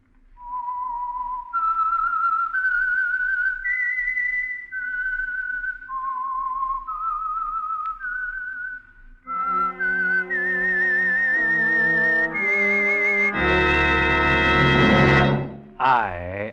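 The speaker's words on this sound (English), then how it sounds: "the signal to listen for is this whistle that identifies the Signal Oil program" A whistled signature theme identifying the Signal Oil radio mystery program The Whistler, a clear solo melody of sustained notes stepping up and down, joined midway by a swelling orchestral passage that rises to a loud brassy chord.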